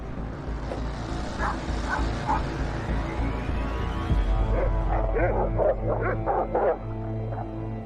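Pit bull dogs bark repeatedly close by, sharp yips and barks in uneven bursts over a noisy outdoor background, with a voice briefly heard.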